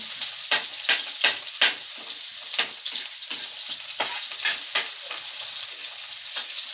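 Onions frying in a pan for adobo, a bright continuous sizzle broken by repeated scraping stirs at an irregular rhythm, close and fairly loud.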